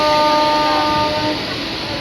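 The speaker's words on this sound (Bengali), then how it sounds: "এখন আমাদের ট্রেন ছেড়ে যাচ্ছে রাজগোড়া স্টেশন" A local train pulls out of Rajgora station on the Panskura to Digha line, a loud, steady rolling rumble with a faint tonal hum that eases off slightly toward the end.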